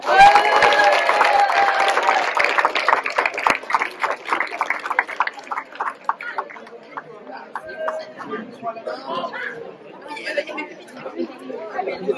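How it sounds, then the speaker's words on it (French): Applause from the audience at a school slam poetry tournament as the first slam poet comes up, beginning dense and loud, then thinning into scattered claps beneath crowd chatter. "on peut déjà applaudir notre première slameuse qui va venir calibrer, qui s'appelle Anne"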